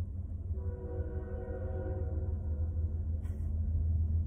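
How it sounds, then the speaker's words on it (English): A Norfolk Southern train rumbles past with a steady low roar while its horn sounds one long, sustained blast at moderate distance. "here comes a train. First train I've seen in weeks. But anyway, you're going to hear the whistle."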